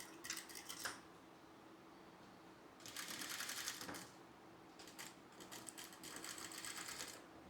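Sewing machine stitching cloth in short bursts, the fabric guided under light finger pressure; three clear runs of rapid needle clatter with quiet gaps between, fairly close.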